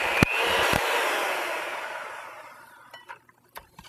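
An electric mixer beats sopapilla cheesecake filling flavored with Mexican vanilla, a steady close whirring drone for over two seconds that fades out, followed by a few light clicks and knocks.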